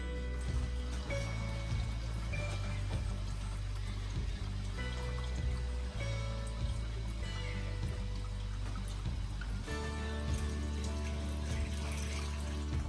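Water pump running cooling water through the coil of an essential oil still while distilling pine hydrosol, giving a steady, continuous flowing and trickling sound with a low hum throughout, no talking.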